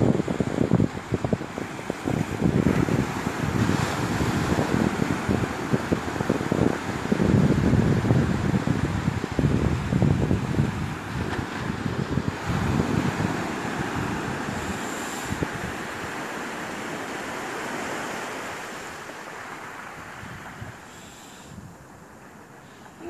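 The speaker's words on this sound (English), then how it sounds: "So I'm going to shut up now and let you hear the sea." Sea waves and gusty wind along the promenade at Tramore, a broad roaring wash with rumbling wind buffets against the microphone, strongest early and easing toward the end.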